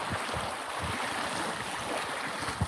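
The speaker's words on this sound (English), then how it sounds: "The waves coming in." Ocean waves washing in to shore by a big rock, a steady broad rush of surf with periodic low swells, muffled somewhat by wind buffeting the microphone; no talking.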